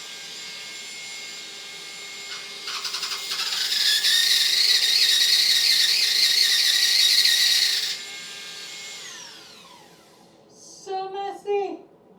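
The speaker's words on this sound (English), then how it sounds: "we're using this Ryobi drywall tool in order to make the hole in the plaster a little bit bigger" A Ryobi powered drywall tool cuts into plaster to widen a ceiling hole, giving a loud, steady high-pitched whine that runs for about five seconds and then stops, followed by brief voices.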